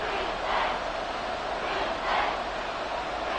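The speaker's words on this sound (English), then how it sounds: "This crowd trying to force a false start here." Loud football stadium crowd noise late in a close fourth quarter, a sustained roar that swells twice as fans try to force a false start, with no talk over it.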